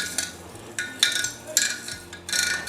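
Spoon stirring Kandhari chillies in vinegar, mixed thoroughly for a Kerala-style pickle: repeated light clinking and scraping strokes against the container, about four distinct bursts at an uneven rhythm, close and alone.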